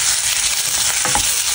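Shrimp being added to frying sambal, loud continuous sizzling and crackling oil with stirring close by, no voices.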